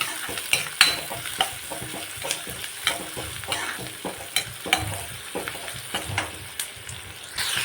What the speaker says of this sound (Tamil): வெங்காயத்தையும் மிளகாயும் போட்டு நல்லா வதக்கணும்